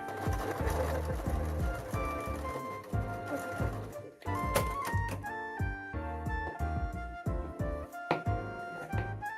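A sewing machine stitches hoodie fabric up close, its rapid mechanical chatter running continuously with small shifts in pace and a brief pause midway.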